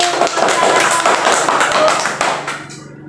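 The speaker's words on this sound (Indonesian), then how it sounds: "Tepuk tangan buat kelompok 1." Third-grade students in a microteaching classroom lesson clap for the first group in a quick, rhythmic run of sharp, close claps lasting about three seconds and fading at the end, with voices underneath.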